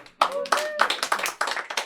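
At a live comedy show, a few people clap in short uneven bursts, close and sparse, with a voice speaking briefly over the first claps.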